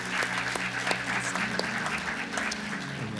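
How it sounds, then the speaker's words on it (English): A church congregation at a Sunday service claps steadily in a dense, sustained round of applause filling the room, moderately loud, with faint voices mixed underneath. "Let's give her a hand clap."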